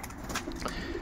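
Old racing pigeons coo softly in a loft, a short burst of low throaty calls with a faint flutter of other birds close by.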